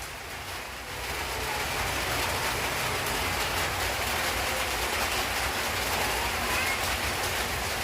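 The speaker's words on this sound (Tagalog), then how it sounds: "Umuulan." A soft, steady hiss of rain falling, constant and fairly faint, with no pauses, while a soaked cat in heat is out in it.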